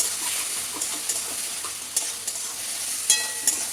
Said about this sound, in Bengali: দিয়ে সমস্ত কিছু ভালো করে সবজির সাথে মিশিয়ে নেব।